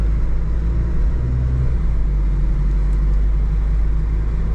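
Diesel engine of a Mazda Bongo Friendee camper van droning steadily from inside the cabin while driving, a continuous low rumble with road noise and no talk.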